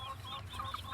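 Crossbred hens and roosters, a cross between village chickens and laying hens, give soft, close clucks over a low background hum in one short moment.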